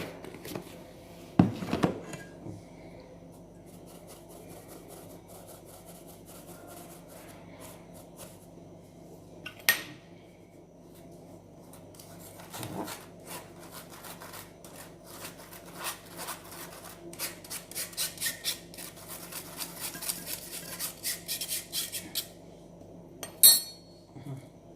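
Cocoa and sugar being mixed in a bowl for a dessert, with repeated light scraping and clinking of a spoon against the bowl, sparse at first and then busier and steadier, with a few sharper knocks.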